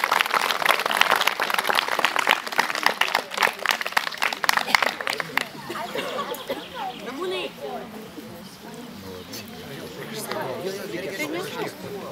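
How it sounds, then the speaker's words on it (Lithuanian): A crowd claps in a burst of applause at an amateur theatre festival in Bajorai, Lithuania, thinning out after a few seconds into murmuring chatter and background voices. "Aplodismentai, teatralams."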